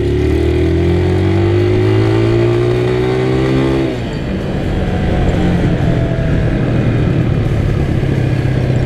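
A Vento Rocketman 250 cc city motorcycle engine revs up through rising pitch for about four seconds, then drops to a rough steady drone as it rolls on, loud and close.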